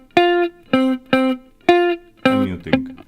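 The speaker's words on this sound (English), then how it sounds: "We're going to use palm muting." Palm-muted electric guitar strings played in a beginner lesson, five short chugged notes with a steady rhythm, each damped quickly. The last one rings a little more openly. Close and clear, with no talking.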